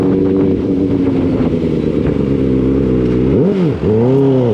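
A Kawasaki ZX4RR motorcycle, still being broken in, drones steadily while ridden on the road near Mangatarem, Pangasinan, its loud, close engine note holding even before a quick dip and rev near the end.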